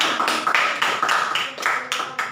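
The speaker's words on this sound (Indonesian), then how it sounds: "berikan tepuk tangan untuk semua" A small group in a counseling session claps together, with a series of quick, uneven broadband bursts of applause that carry on steadily throughout, fairly close and moderately loud.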